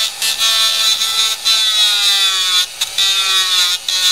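A Dremel rotary tool whines at a high, steady pitch while cutting a handmade bone guitar nut, the tone dipping briefly several times as the bit bogs under load, close and loud.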